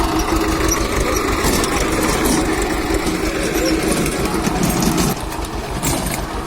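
An old, battered farm tractor engine chugs steadily at close range in a loud, rough rhythmic running note that eases slightly near the end.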